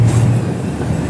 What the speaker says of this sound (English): The train is moving.